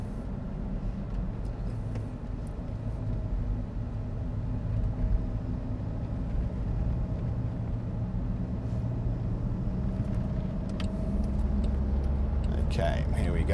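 A Land Rover Defender towing a trailer pulls off a roundabout and accelerates onto the highway, its engine and road noise a steady heavy drone from inside the cab, with a person talking over it.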